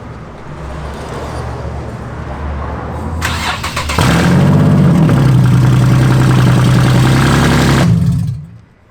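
A Nissan 370Z engine with catless downpipes cranks and starts, then idles with a loud, deep, raspy exhaust rumble for several seconds before shutting off abruptly.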